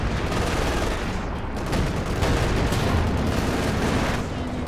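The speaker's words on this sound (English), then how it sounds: "I think there was just like a 150 range scatter shot from the Panther." Dense, continuous battle noise from a Company of Heroes 2 match, with a Panther tank's scatter shot lost in a steady wash of gunfire and explosions that stays loud throughout, with a voice faintly underneath.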